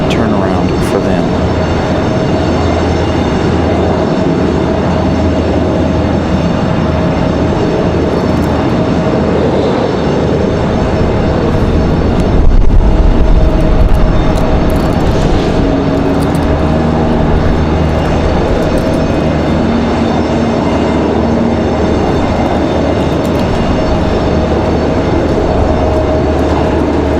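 A CRJ regional jet's engines hum steadily at an airport on a windy day as it readies for departure, a constant distant whine and rumble lasting throughout.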